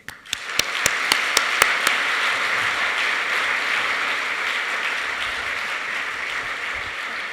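An audience breaks into sustained applause welcoming speaker Betsy Levy Paluck, opening with a few sharp distinct claps before settling into a dense, even roar of clapping that holds steady to the end.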